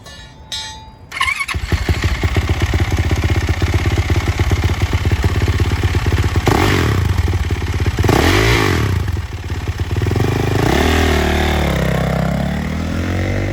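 A used 2022 Yamaha YZ450F open-class motocross dirt bike engine starts with a brief clatter, then runs loud and close with a steady idle broken by several sharp throttle revs.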